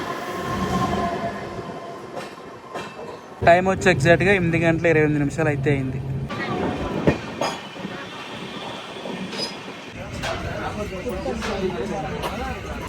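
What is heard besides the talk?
Bengaluru-Tirupati Intercity SF Express train running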